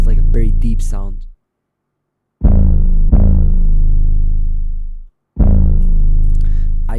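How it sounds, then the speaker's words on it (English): Deep 808 bass in a trap beat, pitched one octave down, played as three long sustained notes with a rich harmonic tail, after a short opening phrase, loud and alone. "so I turned it one octave down and it sounded like this."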